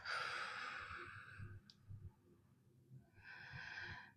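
A person breathes out slowly during a stretching routine, a soft, close, drawn-out exhale followed by a quieter pause and a second breathy release, with no talk.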